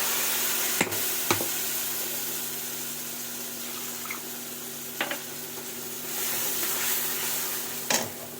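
Poppy seeds and white mustard spices fry in hot oil, giving a steady, close sizzle broken by a few sharp clicks and taps of a utensil, with no talking.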